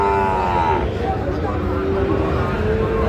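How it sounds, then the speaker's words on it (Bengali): A Sahiwal bull calf at a Jaipur cattle market moos in a long, loud, close bellow, with people talking and market noise around it. "মাশাআল্লাহ, সেরা মানের গরু"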